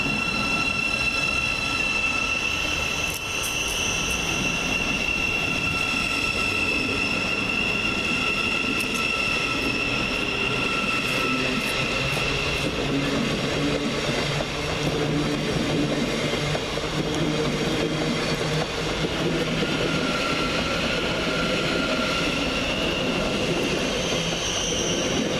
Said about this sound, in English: Next train out to depart is 700-113, working the 1223 via Thameslink service to Horsham via London to Pancras International.